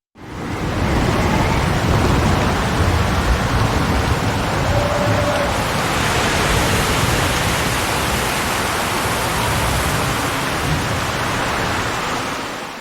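Steady, dense rain hiss with gusting wind in a forest, a continuous loud storm wash that holds evenly throughout before tapering at the very end.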